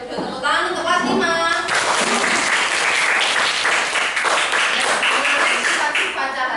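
A primary school class of fifth graders applauding in a classroom, dense steady clapping from the group, fairly loud and sustained, with some voices and chatter mixed in at the start.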